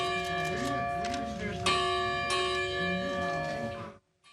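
The Freedom Bell, a church bell in Williamsburg, rings with loud resonant strikes whose long humming overtones ring on, while a voice talks underneath until the sound cuts off.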